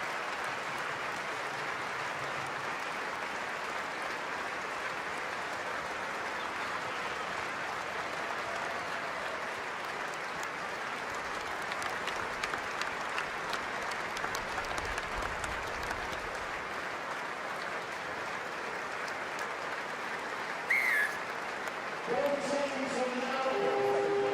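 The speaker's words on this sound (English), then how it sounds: "a minute's applause here" A stadium crowd at a Hull KR v Catalans rugby league match holds a minute's applause, a steady, dense wall of clapping that carries on unbroken, with a few louder bursts near the end.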